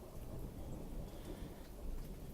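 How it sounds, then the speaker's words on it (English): Distant thunder rumbles low and steady through a storm with rain, heard faintly with no voices over it. "Listen to that thunder."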